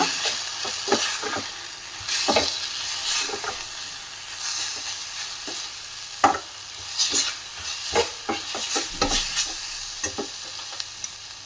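Fenugreek-leaf sambar with chili powder being stirred in a pan: a utensil scrapes and churns in repeated irregular strokes over a soft sizzle, close and clear, with no talking.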